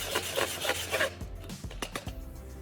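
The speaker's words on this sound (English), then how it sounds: "I'm taking a piece of sandpaper. I'm going to vigorously rub the bottom of the can." Sandpaper is rubbed vigorously across the bottom of an aluminum can. A quick run of close, rasping back-and-forth strokes is followed by a few sparser scrapes and light knocks.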